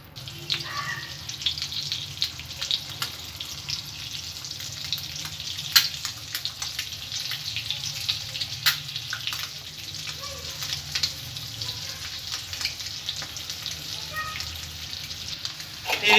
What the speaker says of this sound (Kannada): ಈ ರೀತಿ ಎಲ್ಲ ಮೊಟ್ಟೆನೂ ಈಗ ಬಿಡಬೇಕು ಎಣ್ಣೆಗೆ